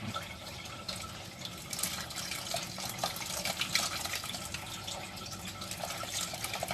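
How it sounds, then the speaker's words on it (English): Water pours steadily into a pot of meat-filled pepper soup, a continuous splashing fill with faint drips and no talking over it. "So I'm going to be adding more water."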